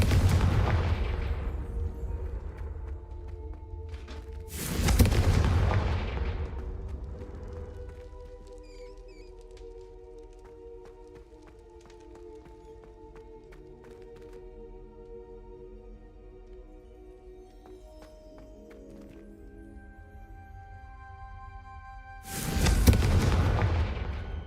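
Confringo explosive spell blasts in Hogwarts Legacy, three heavy booming explosions well apart, each with a short rumbling tail, and quieter ambient game tones between them.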